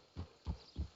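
Three hollow hoof clops of a horse walking in the video game Red Dead Redemption 2, evenly spaced and close, with a soft thud to each step.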